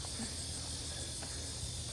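Cicadas buzz outdoors in summer heat on St. Simons Island, a continuous high, even drone that holds steady in the background with no talk over it.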